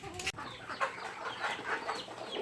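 Backyard Rhode Island Red chicks, newly hatched, making faint, continuous high peeping and cheeping, with a brief louder sound near the start.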